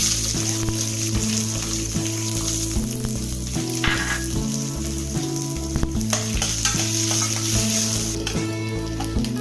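Onions sizzle and fry steadily in hot oil until golden, with a constant crackling hiss and occasional stirring clatter close by.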